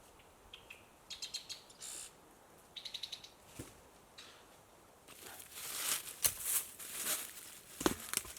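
Birds chirp in the woods in short bursts of rapid tweets, some distant and some closer, with rustling and tapping sounds building in the background.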